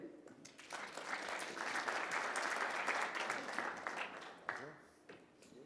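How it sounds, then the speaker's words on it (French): Sustained applause from the audience at the e-healthworld Awards session in Monaco, greeting a speaker at the lectern, a dense wash of clapping that swells and then fades, a little distant, with faint voices near the end. "On peut l'applaudir"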